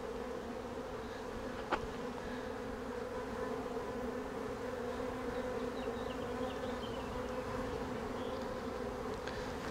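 Honey bees hum and buzz around an open hive during a beekeeping inspection, a constant droning swarm close by with occasional nearer fly-bys and one sharp knock near the start; no voices.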